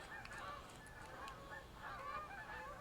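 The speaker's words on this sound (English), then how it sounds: "Ooh, do you hear the geese? Those are Canadian geese." A flock of Canada geese honks overhead, a few repeated nasal calls rising over a steady outdoor background hiss.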